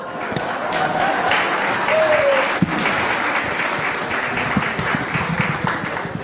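Audience applause after a song at a school variety program, a dense sustained round of clapping from a room full of people, with a few cheers and a voice over it.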